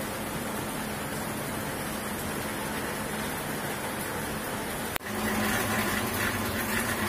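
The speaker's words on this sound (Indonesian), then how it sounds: "hujan ternyata" Steady rain hisses evenly throughout, a dense wash of noise that grows slightly louder after a brief click partway through.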